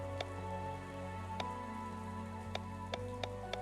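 Steady rain falls in a rainy city within the video game Chained Echoes, a soft continuous patter with occasional distinct drop ticks, quiet and without voices.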